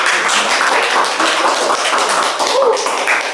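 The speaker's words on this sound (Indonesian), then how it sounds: "kita memberi tepuk tangan tidak?" A classroom of students clapping together, a dense, loud, steady patter of many hands throughout.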